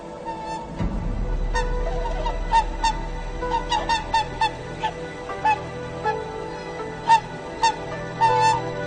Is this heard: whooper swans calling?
yes